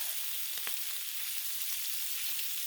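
Pierogi, kielbasa and cabbage frying on a Blackstone griddle, giving a steady, close hiss of sizzling fat with a few brief scraping clicks, no voices over it.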